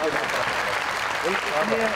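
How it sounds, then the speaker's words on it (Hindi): Steady applause from a studio audience at an Eid ul-Fitr television show fills the clip, a dense wash of clapping with a voice faintly audible underneath. "उनके लिए भी तालियां चाहिए"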